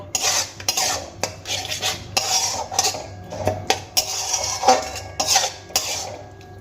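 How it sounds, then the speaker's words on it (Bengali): A spoon clatters and scrapes around a pan while tomato mash ingredients for a restaurant-style tomato bharta are mixed. The scrapes come as irregular, close knocks and rubs, with no voices. "এবার আমি সমস্ত কিছু খুব ভালো করে মিশিয়ে নেব"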